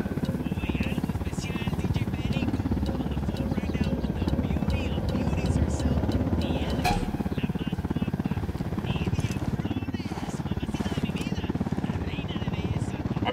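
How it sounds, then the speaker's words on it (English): An in-game helicopter in Ghost Recon Wildlands thrums loudly and continuously overhead, a dense rotor chop that never lets up, with occasional sharp game effects cutting through. "Down, get down, chopper."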